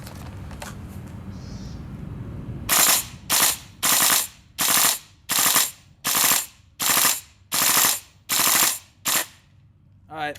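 GHK M4 Devilhunter airsoft rifle emptying a full magazine in about ten short, even bursts of rapid mechanical fire, each followed by a brief pause, loud and close after a quiet start.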